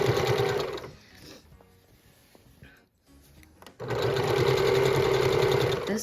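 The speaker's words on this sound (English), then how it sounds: "This quilt has been really a lot of fun to stitch." A sewing machine stitches a quilt in two loud, fast bursts with a quiet pause in between, the close mechanical whir running steadily while each burst lasts.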